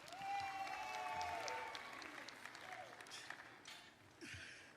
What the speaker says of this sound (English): Let's give a round of applause to all of our elected city and district officials